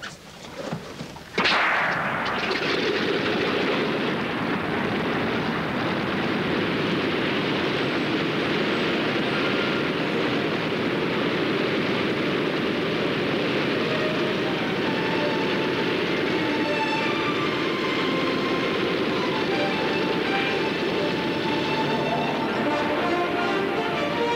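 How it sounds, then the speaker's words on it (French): A huge flying boat takes off over the sea in Santa Monica Bay near Los Angeles: a sudden onset followed by a loud, sustained, even engine roar that holds without a break. "l'énorme machine volante s'est élevée au-dessus de la mer"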